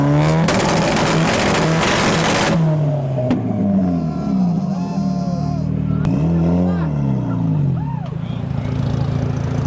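Mazda RX-8 and Nissan S15 revving hard at a car meet in a car park, with a loud burst of rising and falling revs early, then repeated engine blips and throttle sweeps beneath crowd chatter and voices.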